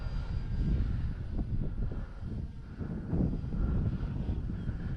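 An E-flite Draco RC airplane on a 6S battery flies overhead, its electric motor a continuous rushing drone that swells and fades slightly as it passes, with wind buffeting the microphone and no voices.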